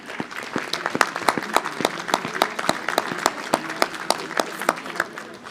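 Applause at a mayor's New Year wishes ceremony for député Lionel Vibert, with a modest crowd clapping steadily in distinct, fairly sparse claps that carry through the room at moderate loudness.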